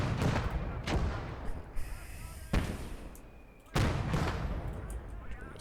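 Gunfire and explosive bursts in the World War II strategy game Call to Arms: Gates of Hell, with a squad armed with many machine guns, heavy booming shots and rattling fire recurring throughout, with speech mixed in.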